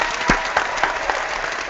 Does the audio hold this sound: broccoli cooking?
no